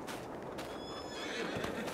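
A horse whinnies in Farming Simulator 22 on PS5, a drawn-out neigh over a busy game background with faint hoof clip-clops.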